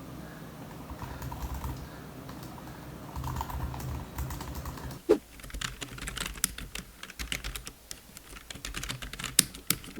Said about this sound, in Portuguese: O teclado, em geral, ele é bastante silencioso, tem um ruído muito parecido com um teclado de notebook.